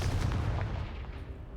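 The Confringo fire spell cast in the Hogwarts Legacy video game, a heavy booming blast with a rumbling, explosive low-end roar that fills the brief moment and slowly fades.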